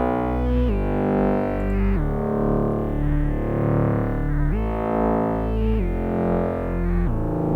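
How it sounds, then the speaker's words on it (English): A sustained synth chord sequence with gritty, saturated tube-saturator distortion, shifting chords every second or so, loud and steady with no voices. "So just drop the tube saturator on it."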